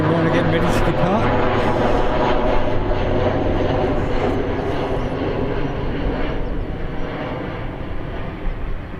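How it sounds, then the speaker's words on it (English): Boeing Dreamliner airliner preparing to depart at Birmingham airport, a loud continuous engine roar and rumble that holds steady and slowly eases, heard at moderate distance with speech faintly underneath. "Dreamliner getting ready to depart."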